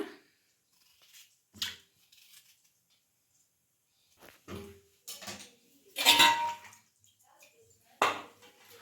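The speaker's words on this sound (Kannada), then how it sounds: "ಹಾಗೆ ಆಲೂಗಡ್ಡೆ ಕಟ್ ಮಾಡ್ಕೊಬಿಡೋಣ." Potatoes being cut in a home kitchen, with scattered knife and utensil clatters against dishes, sharp and close, separated by quiet gaps and a louder burst of handling near the end.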